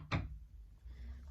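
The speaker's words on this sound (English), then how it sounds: "I just knock it on something or knock on it if I don't have a good surface to knock it on." One sharp knock of a tarot card deck against a surface on a bed, a single close, dull thud followed by quiet room tone.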